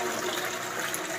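A newly fitted Jaquar push-button flush sends water rushing into a WC bowl, a steady close hissing gush that fills the whole brief moment.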